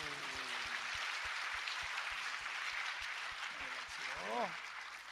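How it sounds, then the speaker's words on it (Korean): Congregation at a Korean church revival gathering applauds in a dense, steady wash of clapping, with a steady rhythmic beat throbbing underneath and a voice calling out briefly near the end. "우리 하나님께 영광의 박수."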